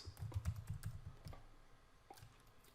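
Fingers type fast on a computer keyboard, a quick cluster of soft close clacks that fades into a few scattered taps in a quiet room.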